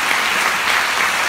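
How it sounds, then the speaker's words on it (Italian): Audience applauding at an Italian talk event: steady, dense clapping that fills the short moment evenly and stays fairly loud throughout, with no voices over it. "Facciamo un applauso, scusate a tutti."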